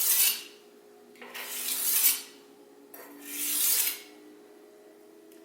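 Knife being sharpened by hand: three long, rasping strokes of the blade across a stone, each swelling and fading, with quiet pauses between them and a faint steady tone in the background.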